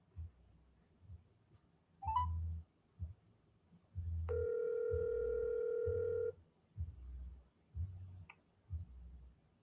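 A telephone dials out to call someone back: a beep, then a long steady tone lasting about two seconds, with a few short rhythmic low pulses around it, quiet and close.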